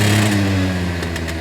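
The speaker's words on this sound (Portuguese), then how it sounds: "olha o som da cinquentinha" A 50cc motorcycle engine idles close by with a steady, buzzy low drone for a brief moment, no voices over it.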